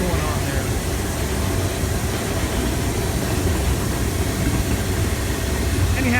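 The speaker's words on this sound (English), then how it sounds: "this is southbound intermodal freight, Greenville, South Carolina" A southbound single stack intermodal Norfolk Southern freight train passing in Greenville, South Carolina, a steady low rumble and broad roar of rolling cars, loud and continuous throughout.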